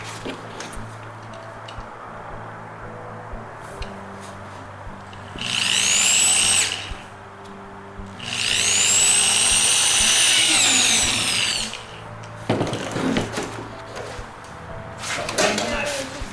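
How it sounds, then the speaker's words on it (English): A power drill whines loudly in two bursts, the second longer, drilling slowly through a plastic bucket, with handling clatter and brief sounds between runs. "While I drill a hole."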